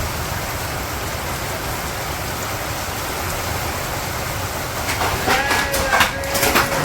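Steady light rain falls on surfaces in a rural village setting, a continuous close hiss throughout, with a bleating animal and a few louder bursts of activity near the end.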